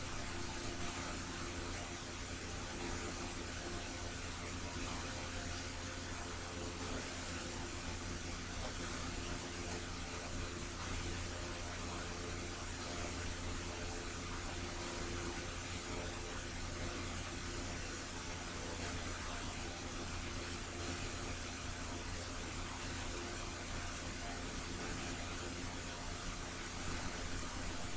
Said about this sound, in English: It's my large exhaust fan in the back of the shed trying to keep me cool.